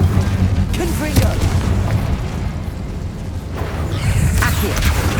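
Confringo spell explosions in the video game Hogwarts Legacy, rendered as repeated booming blasts over a dense, steady layer of game noise and rumble, loud and close throughout.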